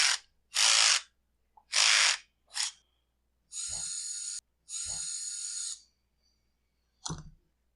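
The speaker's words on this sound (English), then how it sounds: "we will have to remove this one screw just to kind of flex that partition out of the way" A screw is backed out of a partition on a Husqvarna 550XP Mark II chainsaw during an ignition coil replacement. Several short scraping bursts come first, then two longer steady whirring runs and a final brief burst, close up with no talking.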